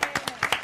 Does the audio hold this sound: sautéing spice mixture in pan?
no